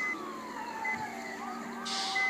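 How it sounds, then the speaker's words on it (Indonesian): A wailing siren with rising and falling tones sweeps repeatedly, moderately loud and steady, with no talking. "sirine yang ketiganya nyala"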